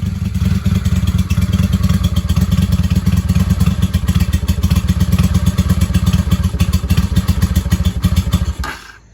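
A 1995 Honda Shadow VLX 600 V-twin motorcycle starts and runs with a loud, close, steady throbbing idle, then cuts out abruptly near the end.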